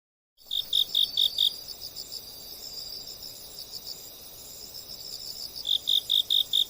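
Crickets chirping as a sound effect: steady, high pulsing trills repeating in rhythmic bursts at the start and end, over a constant insect drone, with no voices.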